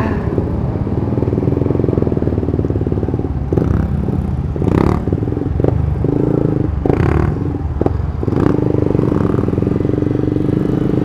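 Big motorcycles at a Sunday morning group ride gathering, their engines idling and rumbling loudly close by with occasional revs and blips, a continuous dense crowd of machines.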